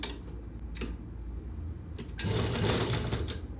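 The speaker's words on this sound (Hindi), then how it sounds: "अब इस तरह से आप सिलाई लगा दो।" A sewing machine stitching blouse fabric, heard close up with a faint steady whir and a few sharp clicks early on, then a louder, continuous run of rapid stitching for the last second and a half.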